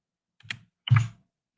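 A search term is typed on a computer keyboard in three separate, crisp keystroke bursts spaced apart by silence, close and clear with nothing else audible.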